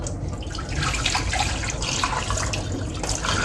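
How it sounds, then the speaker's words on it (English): Tap water runs steadily over fresh strawberries being rinsed at a kitchen sink, a continuous close splashing hiss with small drips and spatters throughout, no voices. "Rinse your fruit and veggies, please."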